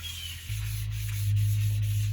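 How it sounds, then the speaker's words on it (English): A sanding block with sandpaper rubs by hand over a rusty metal chair, a close, steady, rough scraping that swells slightly louder partway through. "I'm letting the block and the sandpaper do all the work."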